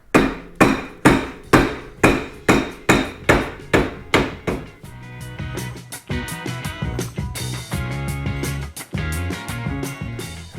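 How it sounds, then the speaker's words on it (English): Rubber mallet tapping a bushing into a Polaris Pro XP upper A-arm: about a dozen loud, evenly spaced blows ring out close up, then give way to a denser jumble of clanks and rattles. "And rubber mallet."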